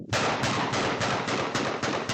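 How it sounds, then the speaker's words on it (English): Rapid bursts of gunfire in news footage, a steady stream of sharp repeated cracks over a dense noisy roar, loud and continuous with no voices. "the story contains video and sounds of gunfire that can be disturbing"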